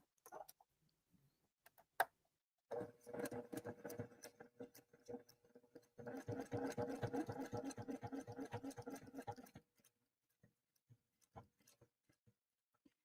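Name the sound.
sewing machine stitching a quilt block over pins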